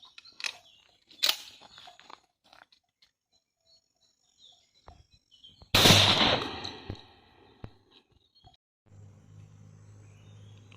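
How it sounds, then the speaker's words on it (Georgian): A shotgun fires a No. 9 birdshot 30 g cartridge with a wad container at a paper target 35 metres away outdoors: one sharp, loud blast with a ringing tail, preceded by faint clicks and followed by low rumble. "პირველი გასროლა იქნება წვრილი საფანტით 9 ნომერი 30 გრამი ვაზნა კონტეინერით."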